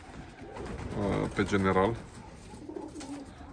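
Energetic racing pigeons in moult coo nearby in soft, rolling bursts, partly under a person talking close to them.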